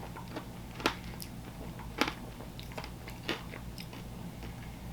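Close, quiet bites and chewing on a Doritos chopped cheese sandwich from Friendly's, a few soft crunches and wet mouth sounds spaced over a steady low background hum, with no talking.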